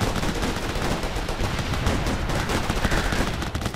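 Dense, continuous gunfire from the Operation Flashpoint: Red River video game, rapid overlapping shots and automatic bursts firing nonstop at steady loudness, forming a crackling battlefield fusillade with no break.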